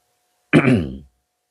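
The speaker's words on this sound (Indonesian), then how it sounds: "Bentar nih, saya batuk dulu." A single short throat-clearing cough from a lone speaker, close and sharp, about half a second long, rising suddenly out of silence and trailing off, with nothing else around it.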